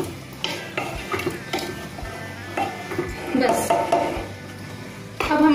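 A spoon scrapes and clinks against a pot as thick rajma masala gravy is stirred, with a faint sizzle and a voice speaking at times.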